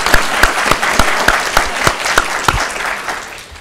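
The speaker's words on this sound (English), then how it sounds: "How about a round of applause for our panelists?" Panelists at a university executive ethics symposium receive close, lively applause from the audience, with sharp individual claps standing out in a quick, fairly regular rhythm that fades toward the end.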